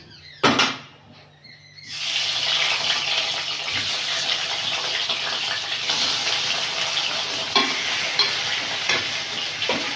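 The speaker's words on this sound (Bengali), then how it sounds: "মাছগুলো ভেজে নেব।" Fish frying in hot oil in a wok bursts into a loud hiss after a short clatter, then settles into a steady, close sizzle with occasional pops.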